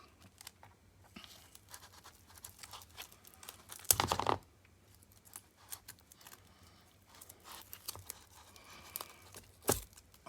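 A loud, quick rip of tape stands out amid quiet scratching and rustling while a journal is being constructed, with a second short tearing sound near the end.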